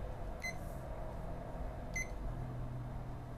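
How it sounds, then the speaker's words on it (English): An electronic timer beeps in two short bursts of rapid high pips about a second and a half apart, faint over steady room hum. "It's a new timer."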